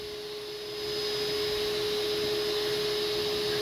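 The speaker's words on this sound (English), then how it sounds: "Let that compressor catch up a minute." Air compressor running nearby, a steady loud mechanical drone with a constant tonal hum that swells slightly after the first second and holds.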